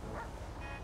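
A single short dog bark from a dog in GTA 5, heard against a constant background of game noise.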